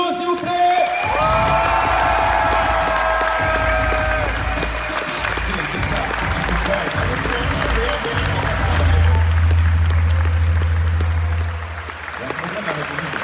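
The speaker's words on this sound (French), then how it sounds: "applaudissez bien fort Alexis Briclot, s'il vous plaît." A loud burst of applause from a large audience at a comic convention in Paris, with sustained clapping, some cheering and music playing underneath throughout.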